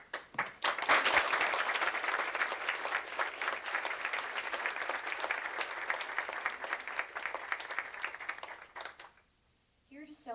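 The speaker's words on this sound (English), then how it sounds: "we applaud them all" Audience applause fills a civic awards ceremony honouring citizens of the year, a steady dense wash of clapping that swells quickly, holds for about eight seconds, then fades out before a voice begins speaking at the very end.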